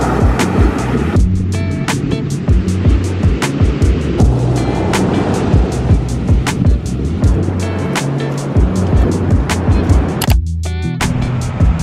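Ocean surf at high tide on the southern French coast with waves of about two meters, a steady loud roar of breaking water and wind throughout, with no talk.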